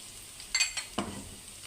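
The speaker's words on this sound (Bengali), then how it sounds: "পেঁয়াজটাকে বাদামি কালার করে নেব।" Onions fry in oil with cinnamon, cardamom and bay leaves, giving a quiet, short sizzle broken by a few sharp stirring scrapes near the pan.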